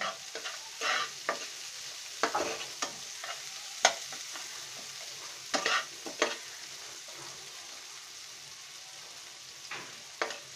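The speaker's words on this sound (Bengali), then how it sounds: "আমরা এখন পেঁয়াজটাকে খুব ভালো করে ভেজে নেব" Onions with green chillies fry in a little oil, a soft continuous sizzle punctuated by intermittent spoon stirs and scrapes against the pan, close and quiet, with no one talking.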